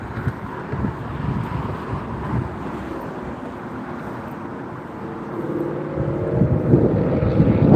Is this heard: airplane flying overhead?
yes